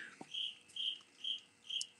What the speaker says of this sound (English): That little cricket, I love him.